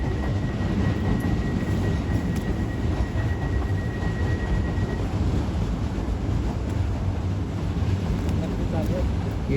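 A Class 450 electric train pulls out of a London terminus, a steady broad rumble and whine filling the platform at constant loudness, with a faint high tone early on.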